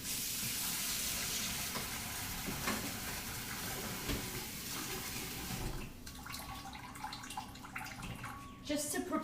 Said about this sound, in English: now I'm just going to get a little bit of water